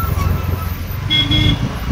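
Road traffic in a Mumbai-area jam, with a car horn sounding briefly over the steady hum of engines and roadway noise, fairly close.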